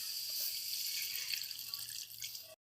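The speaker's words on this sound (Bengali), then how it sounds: "এবার এর মধ্যে দিচ্ছি পরিমাণ মতো জল" Water poured into a pan of Bengali sole fish kalia masala gravy, a steady close splashing pour that tapers off and stops abruptly after a couple of seconds.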